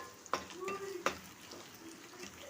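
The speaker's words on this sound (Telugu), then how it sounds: "ఇప్పుడు ఇవన్నీ బాగా కలిసేటట్టు కలుపుకోవాలి." Homemade biryani masala frying in a pan for prawn pulao, stirred with a spoon: two distinct scraping clacks against the pan over a soft steady sizzle, close by, no speech.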